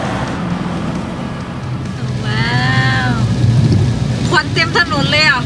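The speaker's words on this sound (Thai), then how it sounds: "ฝนมันแรงอ่ะ" Steady, heavy rain hisses loudly and continuously on an asphalt road in the rainy season at Phu Thap Boek, Thailand, while voices talk over it partway through.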